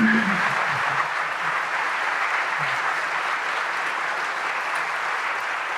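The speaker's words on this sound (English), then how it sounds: "If you give them a round of applause." Steady applause from a large audience at a school assembly, a dense wash of clapping that continues evenly throughout.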